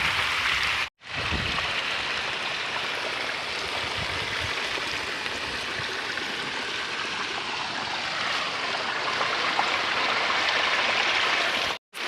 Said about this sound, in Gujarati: કેટલું બધું પાણી ખેતરોમાં તો એટલું નીકળી રહ્યું છે